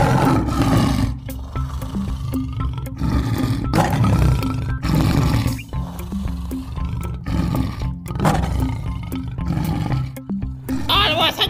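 A cartoon lion lets out loud, rumbling roars again and again, with deep growling surges and brief gaps across the stretch.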